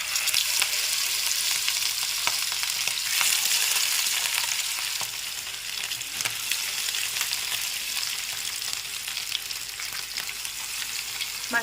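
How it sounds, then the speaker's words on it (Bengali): Rohu fish frying in hot oil in a pan, a steady dense sizzle and crackle that holds loud and even throughout with no talking. "এবার মাছটা দিয়ে ভেজে নিতে হবে।"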